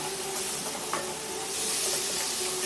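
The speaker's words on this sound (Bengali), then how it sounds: "আঁচটাকে একটু স্লোতে দিয়ে আমি এটাকে নাড়ছি।" Raw mango mustard paste stirred in a pan over low heat, a soft continuous sizzle and hiss with faint spoon movements, quiet and alone.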